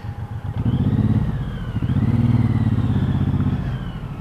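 A Suzuki Intruder motorcycle revved hard in first gear, close and loud, with two rising throttle pulls and a rumbling engine note dipping briefly between them.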